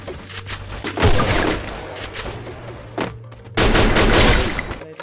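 Gunshots in the battle royale game Free Fire come as heavy thumping bursts, loud and close, with a brief pause before another sustained volley.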